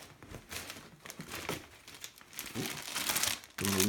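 Packing paper is crumpled and rustled while hand tools are unpacked from a parcel, producing close, continuous crinkling bursts with no talk, before a brief tonal sound cuts in at the end.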